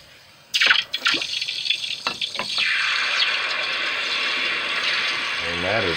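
A hot fishing lure mold dipped into water gives a few sharp splashes and bubbling gurgles, then a steady hissing sizzle that continues close by to the end.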